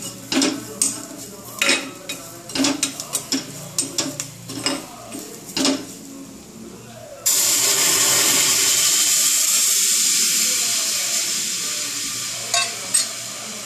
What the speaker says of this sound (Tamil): இதை லேசாக இப்படி வறுத்துட்டு இந்த கரைச்சி வச்ச புளி தண்ணியை விடணும்